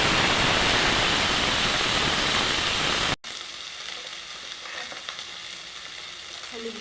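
Potatoes drop into hot oil for a Bengali fish curry with new potatoes, a loud dense sizzle for about three seconds, then a sudden cut to quieter steady frying.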